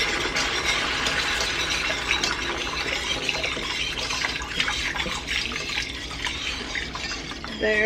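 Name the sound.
beef broth being poured into a pan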